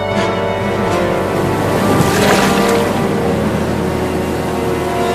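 A small boat moves steadily across water, with a continuous engine drone, water wash and broad noise running loudly through the whole stretch.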